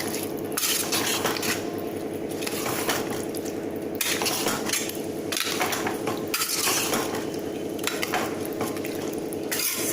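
Rice is stirred into biryani gravy in a pot for thalappa kattu biryani, a steady scraping and wet clinking of a metal spoon against the vessel, repeated strokes close and fairly loud with no talk.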